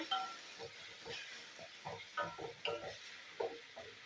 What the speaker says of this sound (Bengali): আদা রসুন পেঁয়াজ আর কাঁচা লঙ্কা একসাথে পেস্ট করে নিয়েছি। তো এটা আন্দাজ মতনই দিতে হয় বন্ধুরা। এটা আমি একসাথে ভেজে নেবো।